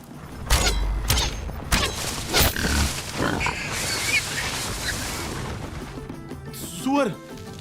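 A wild boar in a film hunting scene grunts and squeals amid loud thuds, rustling and shouting voices, with a sharp squealing cry near the end.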